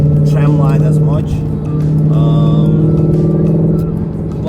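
Ford Mustang Shelby GT350 driving in track mode: a loud, steady engine drone and road rumble from inside the cabin, continuous under someone talking.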